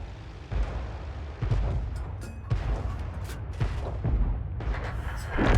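Artillery rounds from a 105 mm leFH18B2 self-propelled howitzer fire in a tank battle video game, deep booms landing at irregular intervals over a rumbling low din, with a louder blast at the end.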